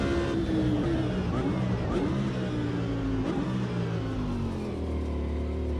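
Audi race car engine in the Automobilista 2 racing game, a steady loud droning roar with rising and falling revs throughout, heard from the cockpit with no talk.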